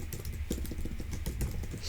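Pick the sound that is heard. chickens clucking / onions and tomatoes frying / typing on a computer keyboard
typing on a computer keyboard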